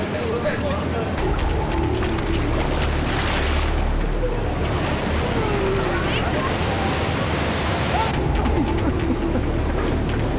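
Rushing water roars continuously around a boat as it plows through rough rapids, with splashes and surges and voices shouting under the noise.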